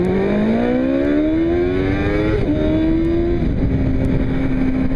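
A 1991 Kawasaki ZX2R, a 250cc inline-four motorcycle, revs steadily with a high, rising engine whine that climbs, dips briefly and holds, loud and close throughout with no talk.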